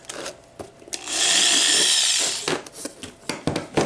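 A power drill runs a bit back through a drilled hole in a Dollar Tree farmhouse wall-hanging frame to clear burrs, a close, loud steady whir of about a second and a half set between short knocks and handling clatter.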